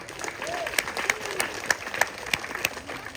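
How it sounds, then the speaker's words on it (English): Spectators at a morning crocodile show in Cairns applaud beside the enclosure, steady outdoor clapping with a few sharper individual claps standing out over the crowd. "Give her a clap."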